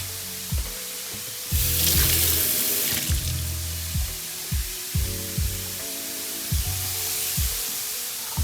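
Kitchen tap water runs steadily while a tomato is washed under it, with a louder gush partway through and repeated soft knocks and bumps from handling, no talk.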